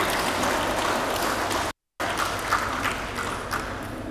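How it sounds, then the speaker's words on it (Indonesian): Steady crowd applause at a provincial parliament plenary session fills the clip, briefly cutting out for a moment before continuing at the same level. "Saya minta tepuk tangannya dong"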